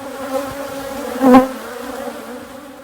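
Honey bees buzz steadily around a hive in a close, droning hum, with one louder bee passing very near partway through.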